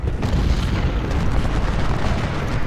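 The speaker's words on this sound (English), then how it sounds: "It's enemy artillery that's causing me some losses here." Enemy artillery fire in Ultimate General: Civil War at the Second Battle of Winchester, a continuous heavy rumble of distant booming cannon blasts rolling together without pause.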